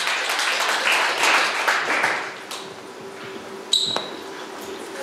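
Audience applause in a stand-up comedy club as a debut performer walks onstage, a moderate clapping crowd that thins out and fades by the midpoint, followed by a few isolated taps and a brief high ping.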